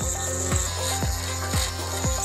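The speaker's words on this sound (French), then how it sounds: "Prenez alors une perceuse fine et commencez à scier les cylindres." A thin drill works through the cylinders of a padlock, cutting with steady rasping strokes about twice a second. The strokes are close and even, with no voices.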